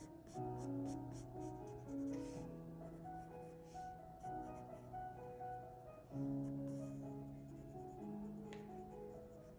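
Pencil lead scratches across paper in quick short strokes while sketching a rabbit, close and soft, with a steady tonal hum running underneath.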